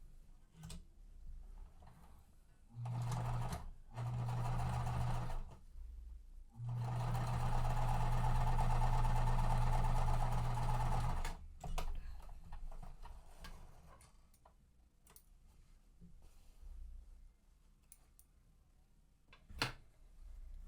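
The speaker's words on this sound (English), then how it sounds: "now these should match up where the sides line up right with the edges of those small triangles that we have already sewn on" Sewing machine stitching quilt triangles for a mystery quilt, running in short bursts and then one longer steady run of several seconds, with quieter handling pauses between.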